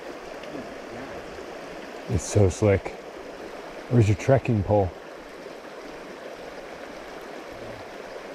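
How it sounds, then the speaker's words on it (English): Creek water rushes in a steady broadband wash during a mountain creek crossing on an elk hunt, continuing under two short bursts of nearby talk. "I'm going to do another sweet, graceful creek crossing."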